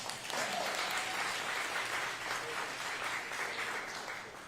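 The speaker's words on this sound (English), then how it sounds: "If you all can give yourselves a round of applause for being here." A gathered crowd at a Maryland government announcement applauds, a continuous, moderately distant wash of clapping lasting a few seconds and tapering slightly at the close.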